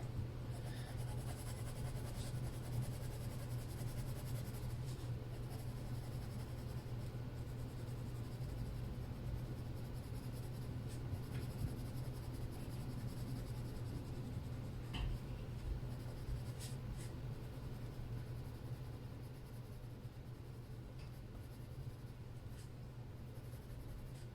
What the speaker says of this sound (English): we're going to burnish all of that with the white